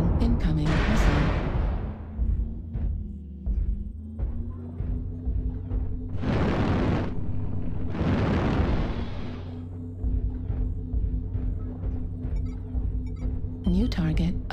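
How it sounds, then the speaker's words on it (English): Incoming missile explosions in a video game, two loud bursts a second or so apart with rushing noise, over a constant engine hum, game chatter and spoken voices. "Warning, incoming missile."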